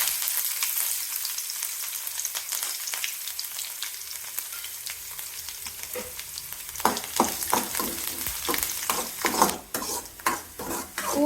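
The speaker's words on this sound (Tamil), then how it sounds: "பூண்டு எண்ணெயில் நல்லா வதங்கட்டுங்க." Garlic cloves and curry leaves frying in oil. A soft hiss builds into louder crackling sizzle, and sharp stirring scrapes and clinks of a spoon against the pan come in the second half.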